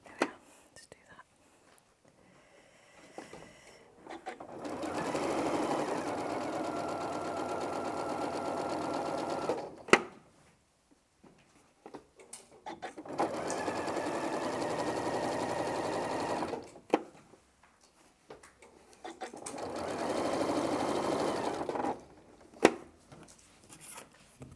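A home sewing machine stitches binding onto a quilt in three sustained runs of steady motor whirring, each several seconds long and separated by short pauses with faint handling noise.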